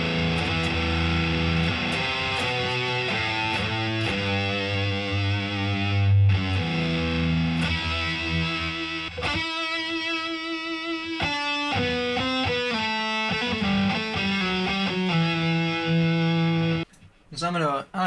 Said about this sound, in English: if we turn up our guitar, here's the kind of tones you can expect.